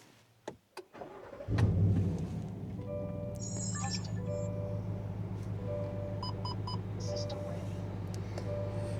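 Car engine, an Escalade or Sierra, cranks briefly after a few clicks and catches into a steady idling rumble, with chiming dashboard beeps sounding over the running engine.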